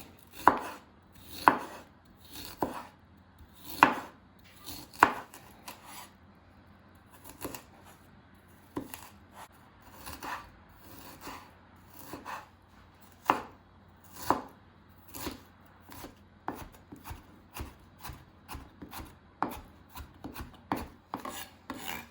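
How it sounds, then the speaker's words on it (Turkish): Steady knife chopping of ginger on a cutting board, sharp distinct taps in an irregular rhythm, close and fairly quiet with no talking. "Şimdi zencefilimizi ince olacak şekilde doğrayacağım."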